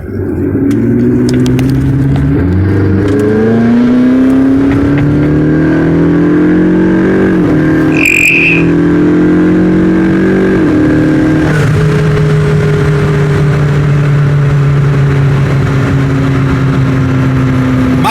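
A 2012 McLaren MP4-12C accelerates hard in track mode, its engine revving loud and close through repeated rising pitch sweeps as it climbs through the gears, with a brief high whine near the middle and steady road roar throughout.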